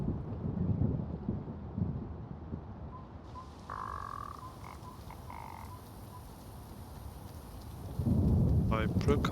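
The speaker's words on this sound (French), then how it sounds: "il pleut quand même" Rain and rumbling thunder fill a scene in The Witcher, a low steady downpour with rolling booms at the start and end and a brief tonal croak-like call in the middle.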